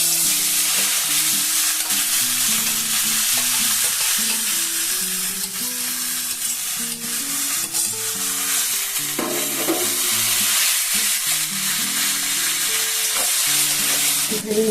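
Red amaranth greens, already fried in oil, sizzle in a pan with a dried red chilli and cumin seeds, giving a steady, fairly loud hiss with occasional stirring scrapes throughout, no voices.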